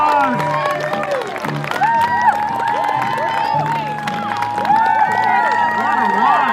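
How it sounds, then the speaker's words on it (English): Crowd cheering and whooping for the first ultramarathon finisher at the 2015 Mount Robson Marathon, with steady applause, excited shouts and children's voices filling the whole stretch close by and loud. "Let's give him a big round of applause"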